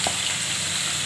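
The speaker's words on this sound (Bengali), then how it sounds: "ঝিঙাটা ঢেলে দিচ্ছি, নুন দিয়ে দিচ্ছি" Ridge gourd frying in hot oil with cumin and black cumin, a dense, steady sizzle heard close and loud, with no voices.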